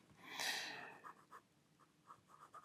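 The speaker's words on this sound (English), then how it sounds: "now we're gonna try the Pilot Custom 823 with a medium nib" A Pilot Custom 823 fountain pen with a medium gold nib writes on notebook paper, a faint close scratching with one longer stroke followed by short, quiet taps and strokes.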